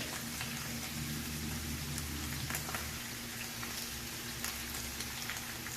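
Leeks fry in a pan with a dense, even crackling sizzle, close and steady with scattered sharper pops, alongside a low background hum.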